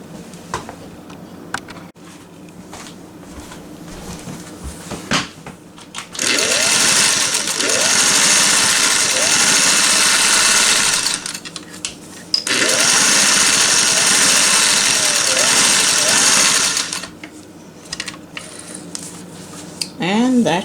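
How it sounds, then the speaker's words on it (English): A Singer Touch and Sew 603E sewing machine stitches in two steady, loud runs of several seconds each, its motor whirring with a rapid needle rhythm, separated by a short pause and quieter handling noise. "And that's your Singer Touch and Sew 603E. Beautiful stitches."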